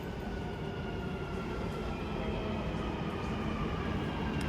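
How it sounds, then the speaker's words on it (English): A steady, loud rumble of a Dubai Metro train rolling into platform 2 of a station, bound for Creek, broadband noise holding constant throughout with no voices. "Train is coming to platform 2 going to Creek."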